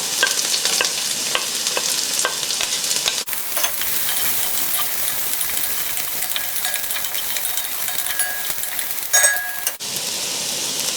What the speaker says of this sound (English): Add in your onions. Saute quickly. Then add in your garlic.